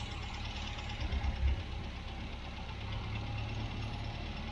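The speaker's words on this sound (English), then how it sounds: "When you lift this up, the rev should increase and then just slightly drop off." A 1967 MGB Mk1 engine idles with a steady rumbling drone during carburettor tuning, its revs swelling briefly near the start and then settling back, close and continuous with no talk.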